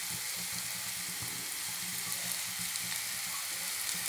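Cumin, ginger, garlic and green chilli paste sizzle steadily in a hot pan, a continuous close frying hiss with no talk.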